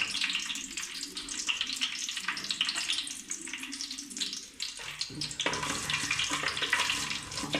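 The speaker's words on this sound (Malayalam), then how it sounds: "കടുക് പൊട്ടി വരുന്നുണ്ട്" Mustard seeds crackle and pop in hot oil in a pan for a Kerala-style chicken curry, a steady dense sizzle with sharp little snaps that carries on throughout, close and fairly loud, with no talking.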